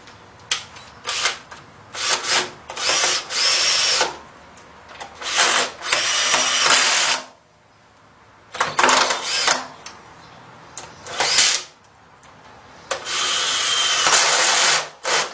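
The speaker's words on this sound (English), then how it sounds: "Now I'll put the bolts back." A power tool drives bolts back into a front cover in repeated whirring bursts of one to two seconds, loud and close, some runs longer, with short pauses and one quieter gap between them and no talk.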